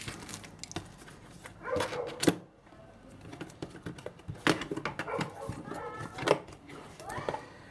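The cardboard box of Anker Soundcore Strike 1 gaming headphones is opened with scattered rustling, tearing and tapping sounds, close and uneven, with a few soft noises in the background.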